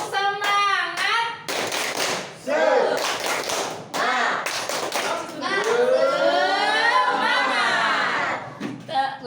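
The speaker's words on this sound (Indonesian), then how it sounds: "Tepuk semangat." Schoolchildren in a class do a rhythmic spirit clap, chanting together in bursts with patterned hand claps mixed into the loud, close group voices.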